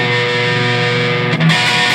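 An electric guitar with a humbucker pickup plays through crunchy distortion, ringing out as a loud, sustained chord full of overtones. It shifts to a new chord partway through and plays alone, with no talking.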